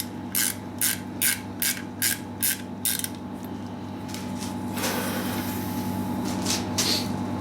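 Ratchet wrench with a socket clicking in about eight quick, evenly spaced bursts while turning 8mm bolts on a crusher carriage build, then giving way to a steadier mechanical grinding under a constant workshop hum.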